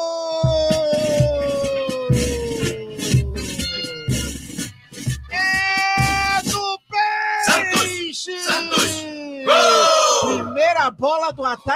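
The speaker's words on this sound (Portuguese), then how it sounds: "Explode o grito da galera, é hora da festa, é gol, é gol!" A Brazilian football commentator screams a goal call over a roaring stadium crowd. Long, sustained shouts and whoops dominate throughout, with the crowd noise underneath.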